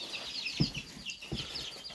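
Chickens, recently grown chicks kept by a backyard keeper, make soft clucks and chirps at close range, with faint rustling and a few light thumps between calls.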